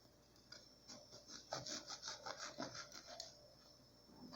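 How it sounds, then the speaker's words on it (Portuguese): A knife saws back and forth through soft, cream-filled sweet bread rolls, cutting them in half, giving a run of close, rhythmic rasping strokes that are moderately quiet, with no talking. "aqui eu vou cortar ao meio"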